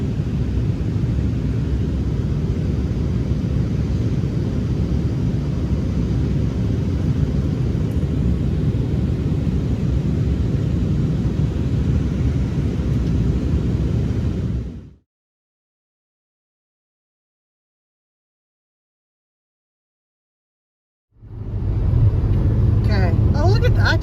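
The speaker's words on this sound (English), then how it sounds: "We are descending and coming in to make a landing in Edmonton." Steady loud jet engine roar inside an aircraft cabin during descent for landing, a constant broad rumble that cuts to silence partway through before resuming.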